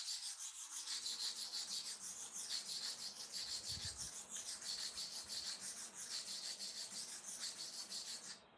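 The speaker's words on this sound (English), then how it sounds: "Now, we want to sharpen this side to cover the whole surface. Go to and fro 20 times." Knife blade sharpened to and fro on a kerosene-wetted stone, a close rhythmic rasping scrape repeating steadily for many strokes, with no talking.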